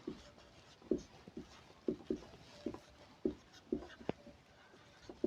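Chalk writing on a classroom board: short, repeated tapping and scratching strokes in an irregular rhythm, fairly faint and close, with no talk.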